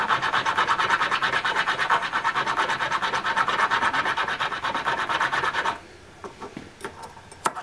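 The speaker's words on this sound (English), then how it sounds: "I'm gonna take a flat needle file, just a little finishing file, and I'm just going to smooth out the flat surfaces" A small flat needle file smooths the cast metal contact surfaces of a trigger group, producing rapid, rhythmic rasping strokes, close and steady for several seconds, then stopping, followed by a few light scrapes and taps.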